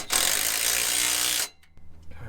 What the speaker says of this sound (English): We got the 3-inch clamp here, which I'll tighten that down so we don't have some play in it.